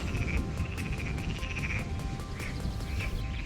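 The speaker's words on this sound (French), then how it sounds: "Ah, il y en a des grenouilles là." Frogs croak steadily near the water on a fishing outing, a dense chorus of repeated calls layered over a constant low outdoor rumble, with no talking.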